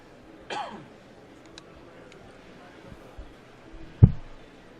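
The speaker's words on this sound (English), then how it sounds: "Excuse me, I got a cough." A single close throat-clearing cough at a Star Wars: Destiny tournament game sounds early, followed by faint small clicks and then a sharp thump, otherwise quiet.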